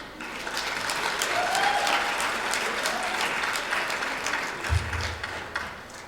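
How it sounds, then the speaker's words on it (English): A round of applause from the audience at a summit for adolescent girls and young women, steady dense clapping filling the room for several seconds with a brief thump near the end. "a round of applause."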